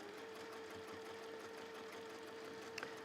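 A sewing machine runs steadily as it stitches across the top edge of a piece of fabric, a continuous close motor hum with a fast mechanical whir and a small click near the end.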